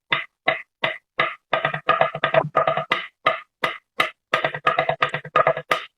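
Crisp triplet strokes on a drum practice pad, played alone in quick groups of three with short pauses between groups, close and even in volume.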